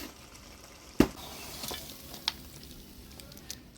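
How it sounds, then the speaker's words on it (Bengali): Fish head and bottle gourd curry cooks in a pan, giving a faint, soft bubbling sizzle with a few sharp clinks, quiet and close with no talking. "মাছের মুড়ে দিয়ে লাউ ঘন্ট হয়ে আসছে"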